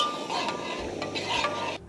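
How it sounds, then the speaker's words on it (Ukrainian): A spoon stirs sugar into lavender water in a pot while making syrup, a steady scraping swirl with a soft sizzling hiss over about two seconds before it stops abruptly. "І вже по знайомій схемі мішаємо цукор, поки він повністю не розчиниться."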